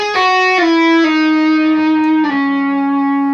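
Electric guitar with distortion and effects plays a slow, sustained melodic phrase, a few ringing single notes gliding between pitches, played alone and clearly up close.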